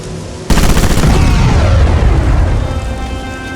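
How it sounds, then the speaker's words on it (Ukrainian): A sudden loud blast of gunfire and an exploding ammunition crate in the video game Sniper Elite, an abrupt heavy boom followed by a rumbling, rolling decay that slowly fades out. "То я засаджу набої у ящик з вибухівкою."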